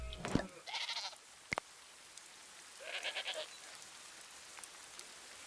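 Sheep bleating in the video game Dawn of Man, where the flock has contracted disease; two short bursts of wavering bleats a couple of seconds apart, fairly faint and clear, with no talking over them.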